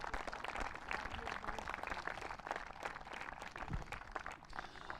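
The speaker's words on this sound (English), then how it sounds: "So a huge round of applause for all of our players." A crowd at a women's international para football awards ceremony gives the players a round of applause, steady and dense clapping that is faint and distant throughout.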